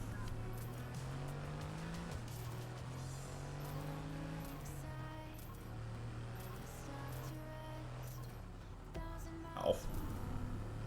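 Race car engine droning with shifting pitch through gear changes during an autocross run in the F1 22 video game, steady and continuous, with a brief louder burst near the end.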